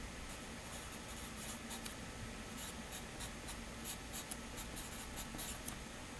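A pen scratches across paper drawing a straight line for a geometry diagram, faint close strokes with light rhythmic scraping over quiet background hiss.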